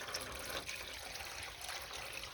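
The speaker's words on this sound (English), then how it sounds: "So I got my cold water here, and we're just going to add this to the turkey roaster pan" Cold water pours and splashes steadily into a turkey roaster pan used for tea-dyeing paper, a continuous soft trickling wash heard close and fairly quiet, with no talking.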